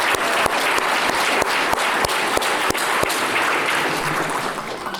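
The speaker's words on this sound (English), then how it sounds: "So I want to give one more round of applause to this fantastic team." A graduation ceremony crowd for an adult education class applauds steadily, with several sharp, distinct claps standing out over the dense clapping before it eases slightly at the end.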